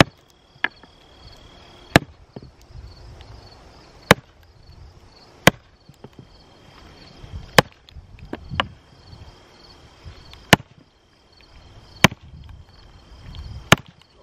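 A Halder splitting wedge, model 355.260, is hammered into firewood, giving sharp, separate striking blows roughly every one to two seconds, with faint creaks and rustling between them.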